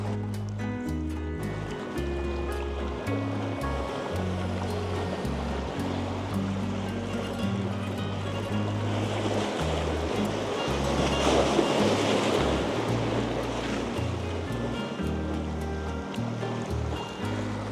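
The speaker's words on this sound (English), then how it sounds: "Right where all that splashing is." Ocean waves splash and surge continuously at a San Diego lobster-diving spot, a broad rushing wash that swells louder midway, with steady low rumble underneath and no talking.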